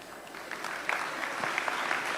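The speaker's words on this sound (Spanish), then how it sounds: "un fuerte aplauso para la doctora Reina Pazzi" An audience claps for a doctor after a talk on nutrition in pregnancy and breastfeeding, a brief burst of close, scattered applause with individual claps standing out.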